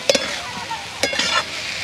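Spices with sugar, salt and coriander powder sauté in a pan for navratan korma, a soft steady sizzle broken by a few sharp scraping stirs of a spoon against the pan.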